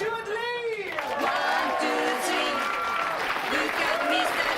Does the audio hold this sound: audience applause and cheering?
yes